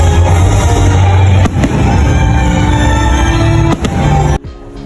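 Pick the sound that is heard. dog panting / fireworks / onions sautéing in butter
fireworks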